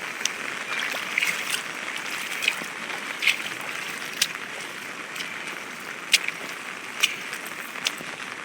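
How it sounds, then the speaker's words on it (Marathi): Rain floodwater rushes steadily past in the village of Wadale, a continuous broad gushing flow with occasional small splashes and gurgles, close and even throughout. "हे बघा असं जातोय तो पाणी."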